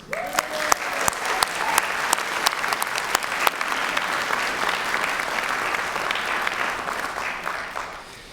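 Loud, sustained applause fills a December graduation ceremony, a doctoral hooding, with dense steady clapping and a few sharp individual claps standing out throughout.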